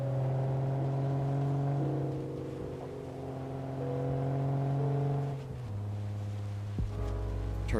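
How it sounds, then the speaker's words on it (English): A modded Nissan Skyline's turbocharged engine in a driving game, droning steadily on a highway, then dropping pitch through a shift and pulling again, smooth and loud with no talk. "Turbo kicks in great."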